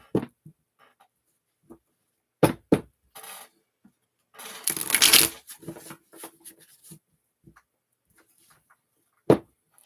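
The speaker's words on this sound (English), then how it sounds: "So I'll shuffle them like a deck of cards." Playing cards shuffled like a deck in a quiet room: scattered soft taps and flicks, then one dense riffling burst in the middle, followed by a few more isolated clicks.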